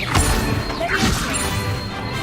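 A Levioso levitation spell cast in Hogwarts Legacy, heard as a sharp magical whoosh and impact burst over busy game effects, with spoken voices around it.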